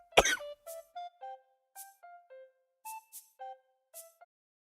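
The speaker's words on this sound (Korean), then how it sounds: "와, 방금 기침 뭐야?" A girl coughs: one sharp, loud cough burst followed by a run of short, thin, strained wheezing coughs or squeaks that trail off, close and alone.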